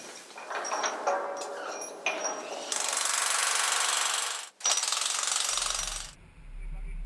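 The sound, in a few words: power tool tightening bolts on wind turbine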